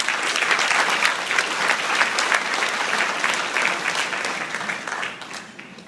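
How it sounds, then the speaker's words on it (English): A college football Hall of Fame audience gives inductees a loud, sustained round of applause, dense clapping from a large crowd that tapers off toward the end. "let's just give a huge round of applause for our inductees up here"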